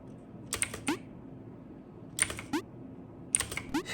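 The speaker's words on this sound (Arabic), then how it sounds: "شوي على الكيبورد." Computer keyboard typing in three short bursts of quick clicking keystrokes, close and fairly quiet, separated by pauses over a low background hum, with no talk.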